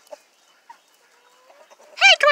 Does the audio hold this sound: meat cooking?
no